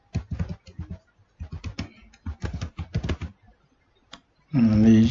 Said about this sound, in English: You can start typing there.